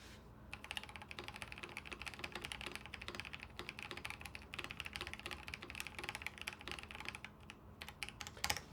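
A mechanical keyboard with heavy springs rattles under quick continuous typing, a dense, even patter of keystrokes heard close but fairly quiet, with no talking.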